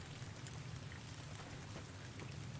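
Steady rain falls in Fallout: New Vegas, a continuous, even hiss of drops with a low rumbling bed underneath, constant in loudness throughout and heard alone without any voices.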